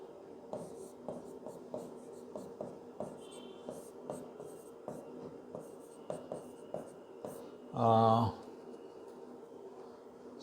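Writing on a board, with short scratchy strokes in an uneven rhythm under a voice speaking, and one brief louder burst near the end.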